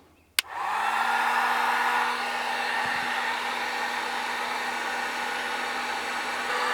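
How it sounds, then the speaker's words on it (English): A heat gun shrinks heat-shrink tubing over extended charging cable wires, switching on with a click into a loud, steady blowing roar with a constant whine that holds unchanged to the end. "get out your heat gun and just shrink that tight"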